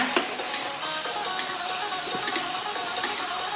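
Stink beans (sator) stir-fried in a pan give a steady close sizzle, with the soft scrape and clack of stirring repeating throughout.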